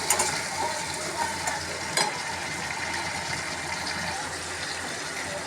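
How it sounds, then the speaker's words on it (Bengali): A paste of dried chili, garlic, ginger, cumin and garam masala fries in oil for a taro curry, sizzling steadily up close with a few sharp stirring knocks against the pan. "মশলাটা কষিয়ে নেব"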